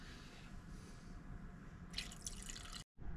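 Quiet, close dripping as water filters through a ZeroWater 12-cup filter pitcher, a faint continuous trickle with a brief burst of sharper drops near the end and no talking.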